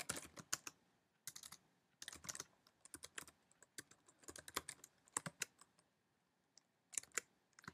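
Bursts of quick, crisp keystrokes on a computer keyboard, clattering in clusters with short pauses between them, close and clear with no voices.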